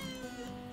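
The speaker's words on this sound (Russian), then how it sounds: "на фоне будет мрякать котик" A short, soft meow from a cat in Star Stable Online, a single drawn-out tonal call heard alone.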